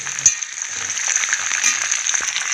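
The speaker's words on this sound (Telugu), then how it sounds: "పోపు వేగుతుందండి" Spices, including dried red chillies, crackle and sizzle in hot oil for tempering, a bright continuous frying hiss with small pops and occasional stirring clinks.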